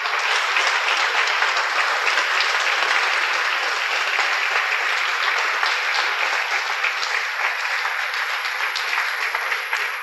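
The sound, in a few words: congregation applause in church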